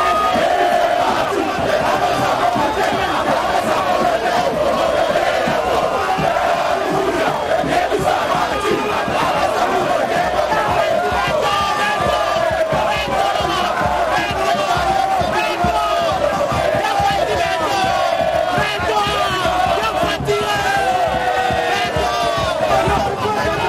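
A large crowd in the Democratic Republic of the Congo welcomes the president and his wife with continuous cheering, shouting and chanted singing, a loud, dense roar that stays steady throughout.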